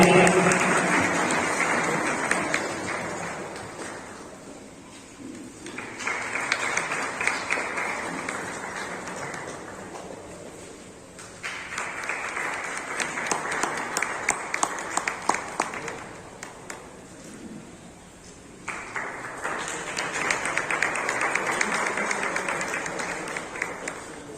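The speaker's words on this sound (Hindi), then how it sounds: "जोरदार ताली।" Loud applause from a crowd at the inauguration of a camp program in Sheohar, coming in several sustained waves with brief dips between them and no speech over it.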